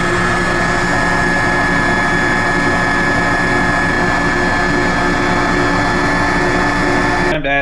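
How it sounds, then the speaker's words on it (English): Bosch stand mixer beating oatmeal cream pie cookie dough with flour, baking soda and salt: a loud, continuous motor whir with steady churning, running evenly before stopping abruptly near the end. "I'm going to turn on the mixer and allow it to give it a shot."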